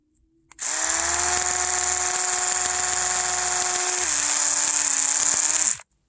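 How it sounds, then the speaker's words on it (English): A handheld electric toothbrush runs close up with a loud, steady high-pitched whir for about five seconds, dipping slightly in pitch partway through before cutting off abruptly. "This toothbrush right here."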